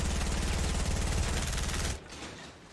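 Rapid automatic gunfire in a first-person shooter, a dense burst of shots fired from above that runs for about two seconds and then cuts off, leaving quiet.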